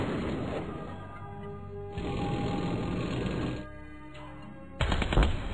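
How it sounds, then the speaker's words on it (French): Cannon fire in a strategy tower-defense game, heard as a steady mechanical rattle of rapid shots running for several seconds, a brief drop, then a louder burst of impacts at the end, with no talk over it. "On va faire une attaque canon."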